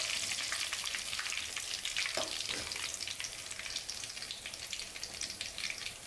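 Coriander fries in a pan for chicken kulambu, giving a steady, close, soft sizzle with fine crackling that continues throughout, with no one talking.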